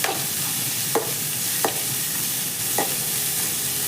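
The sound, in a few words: frying carrots and beans in oil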